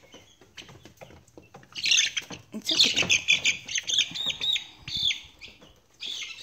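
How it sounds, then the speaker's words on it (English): Chicks in a brooder chirp and squawk in agitated bursts, close and loud, with wing flutters and scratching scuffles between calls; a person says a few quiet words in the middle. "Chickens are a little out of control."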